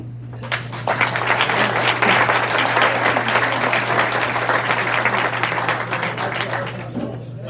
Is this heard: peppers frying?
no